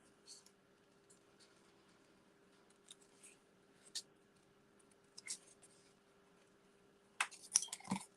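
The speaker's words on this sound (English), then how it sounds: "I'm just going to cut this out." Scissors cutting out a paper shape for a craft, faint scattered snips that grow into a louder burst of cutting near the end, with low room hum underneath.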